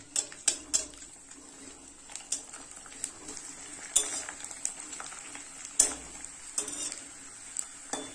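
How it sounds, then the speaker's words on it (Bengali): Papad fries in hot oil in a pan, a soft sizzle under a series of sharp metallic clinks and scrapes of utensil against pan, quiet and close. "তার জন্য কিন্তু আমি পাঁপড়টা ভেজে নিচ্ছি"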